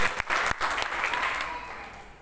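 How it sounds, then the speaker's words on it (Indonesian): A church congregation bursts into applause during a sermon, a brief, dense wash of clapping that swells quickly and then slowly fades over a couple of seconds. "Beri tepuk tangan terbaik buat Tuhan Yesus Kristus."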